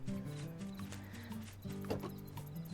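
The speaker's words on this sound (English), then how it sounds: "Oh, we have a horse." Game horse from Harvest Moon, heard as clip-clop hoofbeats and a short whinny over steady background music on a farm in the morning.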